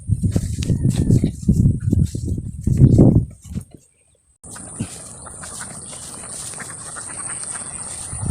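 A flock of ducks quacks loudly and repeatedly at close range as they run on a farm, the calls stopping briefly before a steady outdoor hiss of insects and ambience takes over.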